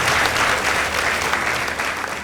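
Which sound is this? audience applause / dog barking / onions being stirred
audience applause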